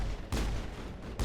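Gunfire in the video game Mass Effect: two sharp, heavy shots about a second apart over a dense, loud combat background.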